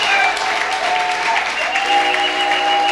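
A church congregation claps loudly, a dense continuous roar of applause with cheering voices and tonal shouts mixed in, close and sustained throughout.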